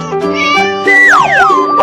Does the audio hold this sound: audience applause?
no